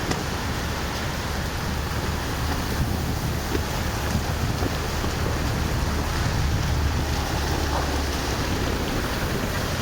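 Heavy rain and strong wind in Brejo Santo, Ceará, roaring as a loud, continuous broadband wash with gusty buffeting on the microphone and no talking.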